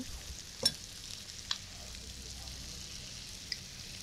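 Tomatoes frying with chicken pieces in a pan for methi chicken curry, a faint steady sizzle with a few soft clicks of a spoon against the pan.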